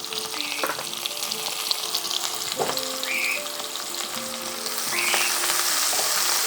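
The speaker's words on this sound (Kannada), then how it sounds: "ಅದರ ಜೊತೆ ಈರುಳ್ಳಿಯನ್ನು ಕೂಡ ಫ್ರೈ ಮಾಡೋಣ ಈರುಳ್ಳಿಯನ್ನು ನಾನು ಹಾಕ್ತಾ ಇದ್ದೀನಿ" Onions fry in hot oil with mutton for a spicy mutton fry, a dense continuous sizzle with a few spatters and faint clinks, growing slightly louder toward the end, no voices.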